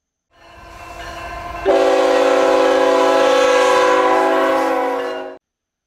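An N scale Atlas GP40 model train horn sounds loudly and steadily for several seconds over the hum of the running train, then cuts off abruptly.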